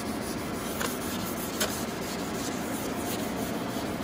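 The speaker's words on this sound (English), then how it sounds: "doing some wet sanding" Wet sanding a guide coat with 320 and 1500 grit sandpaper: steady, close rasping friction strokes run continuously with a few sharper scrapes, no talking.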